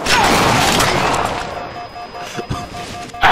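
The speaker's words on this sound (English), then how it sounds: "Why didn't you step out of the pulse grenade?" A pulse grenade bursts in the video game Halo 4 with a loud opening blast that tails off into crackling, electronic whines and scattered impacts, followed by another sharp hit at the close.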